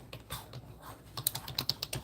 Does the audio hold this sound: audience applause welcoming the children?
no